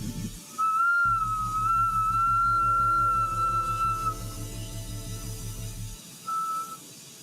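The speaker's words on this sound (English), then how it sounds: "No, that was the glass whistling, yeah." Hot blown glass piece gives off a loud, steady high whistle for several seconds, wavering slightly, over a low rumbling furnace-like drone, then a brief second whistle after a pause.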